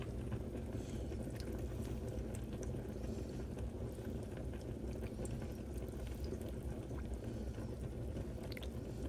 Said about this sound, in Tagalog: Dahil lagyan ko ng coconut milk.